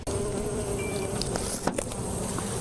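Bees buzz steadily in a dense swarm, a constant droning hum with a few brief faint knocks and rustles.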